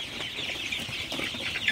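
Sonali super hybrid chickens cluck softly at night in short, scattered bursts over a steady hiss.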